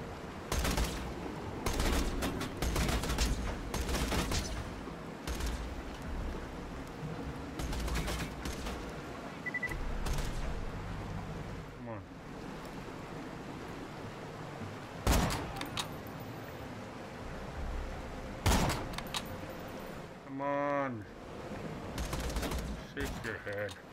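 Borderlands 2 gunfire: scattered sharp shots and short bursts at moderate loudness, separated by quieter stretches of ambient game sound.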